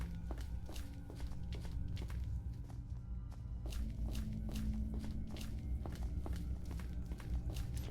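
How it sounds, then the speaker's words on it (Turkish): Footsteps in the horror video game Granny 3 thud in a steady walking rhythm, layered over a dense, rumbling ambient backdrop that stays loud throughout. "Çok gerilimli ayak sesleri yok mu?"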